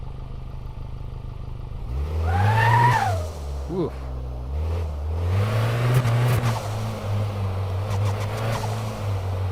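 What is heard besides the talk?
car engine revving in video game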